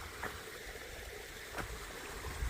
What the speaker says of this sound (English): got this nice little stream.